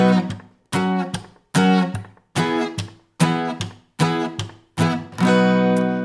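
An acoustic guitar strums the rhythm of a song: a loud, close, repeating pattern of downstrokes with brief muted gaps, ending on a ringing chord, with no talking.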